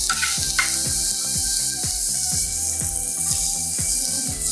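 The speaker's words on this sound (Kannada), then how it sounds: "ಇದಕ್ಕೆ ನಾವೇನು ಗಾರ್ಲಿಕ್ ಕಟ್ ಮಾಡಿದ್ವು ಅದನ್ನು ಹಾಕೊತಾ ಇದ್ದೀನಿ" Chopped garlic sizzles in hot oil in a frying pan while a Kannada cook prepares a squid fry sauce, a steady bright crackling hiss with soft stirring scrapes, moderately loud and close, with no talking over it.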